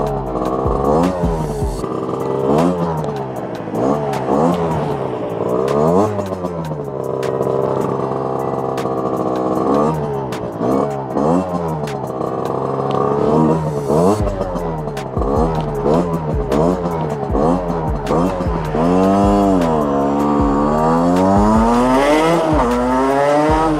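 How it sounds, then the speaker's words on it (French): A car passes close by while a loud engine runs throughout, its pitch sweeping up and down in repeated rises and falls. "On va attendre la voiture qui passe."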